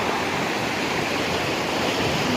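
Flash-flood water rushing down mountain streams after a short burst of rain on the Sham Valley trek between Yangthang and Hemis Shukpachan in Ladakh, a loud, continuous, close roar of churning water with no voices.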